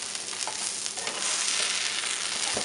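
Cheese arepas fry in butter on a grill for Colombian arepas de queso, giving a steady close sizzle and crackle throughout with small pops and no talking.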